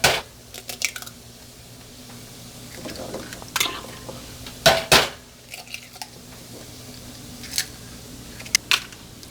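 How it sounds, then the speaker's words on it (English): Six extra large eggs cracked one by one into a bowl, giving sharp scattered clicks and taps of shell against the rim, with quiet pauses between them and no talking. "Now I've got 6 extra large eggs here. I'm going to go ahead and break them into this bowl."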